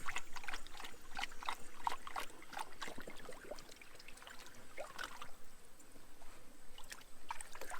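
Toby the dog splashes about in a water tub on a hot day, making irregular sloshes and drips, fairly close but soft, over a quiet outdoor background.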